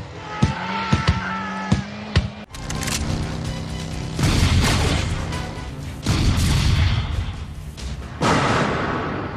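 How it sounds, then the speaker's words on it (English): Heavy thuds and deep booming slams from bodies hitting a wrestling ring, boosted by a microphone placed under the ring, with several sharp knocks followed by long, loud, rumbling impacts. "booming bass of when you have a microphone and that amplifier under the ring"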